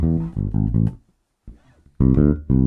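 A bass guitar plays a bass line, a close, loud run of short plucked notes, then a brief pause and a further phrase of notes.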